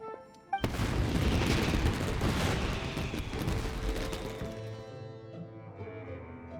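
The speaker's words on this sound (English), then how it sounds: "Yoimiya, this is turning into a bit of a fireworks display." Booming fireworks bursts in the video game Genshin Impact, a loud sudden blast followed by dense crackling explosions that slowly fade into a lingering rumble with musical tones underneath.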